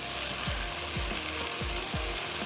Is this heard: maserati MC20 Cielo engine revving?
no